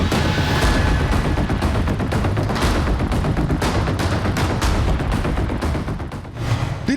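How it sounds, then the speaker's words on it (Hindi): Gunfire erupts during a street shooting in the Welcome and Jyoti Nagar areas of Delhi: a dense, loud run of sharp cracks and bangs that repeat rapidly and unevenly for several seconds, with no one talking. "दिल्ली का वेलकम इलाका और ज्योति नगर इलाका गोलियों की तड़तड़ाहट से गूंज उठा।"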